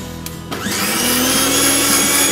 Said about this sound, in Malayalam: ടെൻഡർ കോക്കനട്ട്, നീരും അതിൻ്റെ മലയായിട്ടൊന്ന് കുറച്ച് ഷുഗറും കൂടെ ആഡ് ചെയ്ത് മിക്സിയിൽ നമ്മൾ പേസ്റ്റ് ചെയ്തെടുക്കും